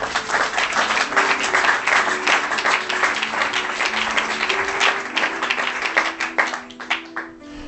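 A church congregation breaks into dense, sustained applause and clapping at a French-language service, loud and continuous for several seconds before tapering off near the end.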